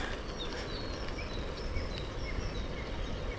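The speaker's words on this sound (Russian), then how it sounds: "Ой, птички поют как." Birds singing outdoors along a river valley road, short chirps and whistles repeating over a constant broadband hiss of running water or wind.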